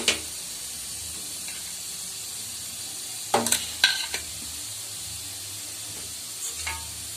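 Oil heating in a frying pan for a tempering on a stovetop gives a faint, steady sizzle and hiss, broken by a few brief louder crackles and taps near the middle.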